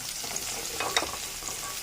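Hot oil sizzles and crackles steadily as spices temper in it for a curry, with a few sharper pops standing out briefly, close up and with no voices.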